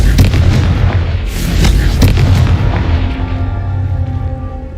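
A Confringo fire spell explodes in the video game Hogwarts Legacy, a loud, dense booming blast with crackling bursts that fades into a lingering rumble and ringing tail, with no voices.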